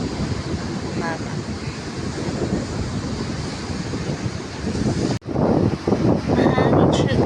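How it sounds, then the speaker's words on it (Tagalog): Rough sea surf and gusty wind roar continuously at a shore in Morong, Bataan, with waves crashing loudly near the microphone and wind buffeting it throughout. "Maalon yung dagat."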